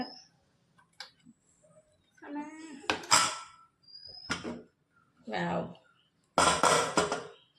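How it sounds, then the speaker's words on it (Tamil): The lid comes off a pot of biryani amid clanks and clinks of metal cookware, several sharp knocks and scrapes close by, with voices talking in between. "இப்போ வந்து ஓப்பன் பண்ணி பார்க்கலாம் எப்படி வந்திருக்கோ இந்த பிரியாணி"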